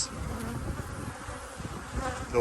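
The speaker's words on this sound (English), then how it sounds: "And you see the bees coming out." A thick, continuous hum of many honeybees buzzing around a hive after a VarroxSan mite treatment, steady and fairly close with no voices.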